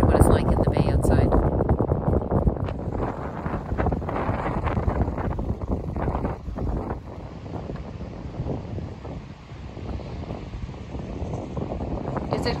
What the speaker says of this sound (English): You can really hear that wind, and it's pretty protected in here